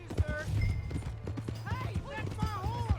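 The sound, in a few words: horse hooves, from the video game Red Dead Redemption 2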